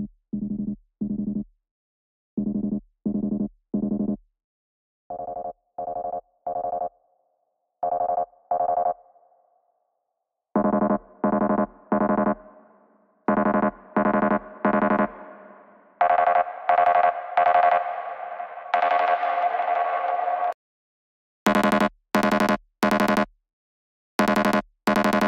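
A drum and bass intro: repeating synth pulses build in groups, swelling into an automated reverb washout that smears the notes together, then cutting to dry, punchy hits at the drop.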